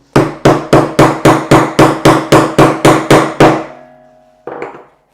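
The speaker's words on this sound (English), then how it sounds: "once you've hammered that into place" A hammer drives a wooden dowel down through a tiered cake as a center support, twelve steady, evenly spaced loud strikes close up, then a brief ringing pause and one last softer knock.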